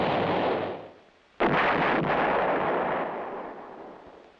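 A towed 8-inch howitzer fires one loud, sharp blast that rolls into a long, booming roar and fades slowly, with no voices.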